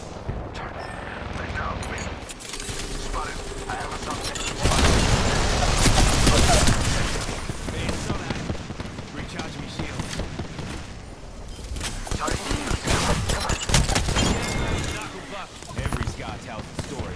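Enemy gunfire crackles in a video game firefight, rapid bursts and repeated shots near and loud, mixed with other combat effects and a voice talking over the action.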